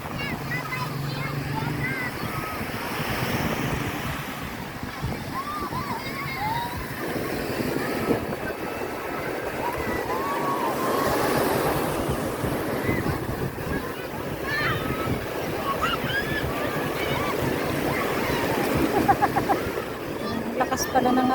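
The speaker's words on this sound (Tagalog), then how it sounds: "Lakas pala ng alon dito" Strong ocean waves surge and wash steadily on a Camarines Sur beach at night, a continuous loud roar with wind buffeting the microphone and voices talking over it.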